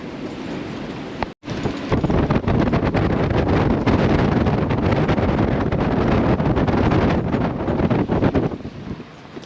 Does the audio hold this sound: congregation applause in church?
no